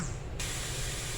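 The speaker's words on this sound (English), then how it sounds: "I'm going to start out by frying a couple pounds of ground beef here." Partly frozen ground beef hitting a hot frying pan, a sudden loud sizzling hiss that starts abruptly and holds steady, close by.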